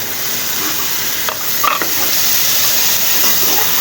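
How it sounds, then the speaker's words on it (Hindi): Tomatoes are added to hot spiced oil in a pan for a bhindi pyaz dish, producing a loud, steady sizzle and hiss with a couple of brief stirring scrapes midway, no voices. "ये 2-3 सेकंड ऐसे करके अब इसके अंदर मैं डाल दूँगी टमाटर।"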